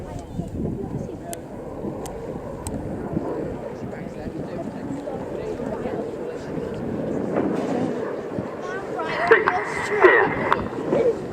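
Red Arrows display jets approach to land on runway 22 at Scampton airshow, a broad distant engine rumble that slowly swells nearer, with wind buffeting the microphone and a commentator talking over it.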